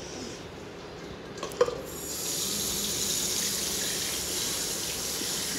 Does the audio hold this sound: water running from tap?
yes